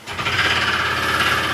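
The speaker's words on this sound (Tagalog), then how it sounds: "Yan, papansin nyo yung ingay ng makina." Honda ADV160 scooter engine idling with an abnormal chirping noise needing an overhaul, a steady mechanical drone with a bright high whine running throughout, heard alone at moderate distance.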